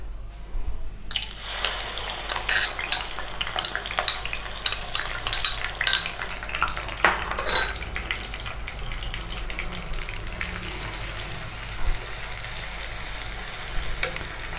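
A ground onion and tomato paste with ginger-garlic paste fries in a pan, giving a constant close crackling sizzle with occasional scrapes and spatters, and no one talks.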